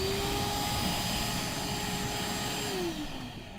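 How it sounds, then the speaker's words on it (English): A shop vac blows dust out of the fans and heatsink of a Sony Vaio all-in-one PC as a loud, steady whining roar with a high tone that drops slightly near the end. "go ahead and blow out your fans, your moving components, and your heatsink as well to make sure all the dust is removed. Any shop vac will work"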